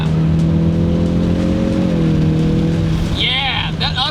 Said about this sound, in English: That upshift from third to fourth feels really nice